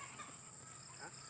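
Farm chickens at feeding time, a brief burst of close clucking over steady outdoor background noise.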